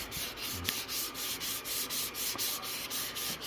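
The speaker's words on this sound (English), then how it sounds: "And then you sand out all the imperfections, see?" Wood being hand sanded to remove imperfections with light pressure, a close, steady back-and-forth rasping in regular strokes of about three per second, with no talking.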